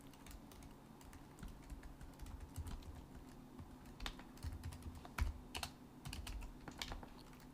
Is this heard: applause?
no